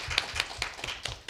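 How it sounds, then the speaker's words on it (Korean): A small group clapping to welcome a panelist at a science and technology policy forum panel discussion, a few sparse, rhythmic hand claps with a light, thin sound and no voices. "박수로 맞아주시면 감사하겠습니다"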